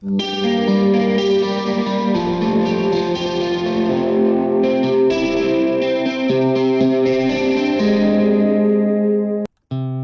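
An electric guitar played through chorus and distortion effects rings out in sustained, shimmering chords and notes, loud and continuous, before a brief sudden cutoff near the end.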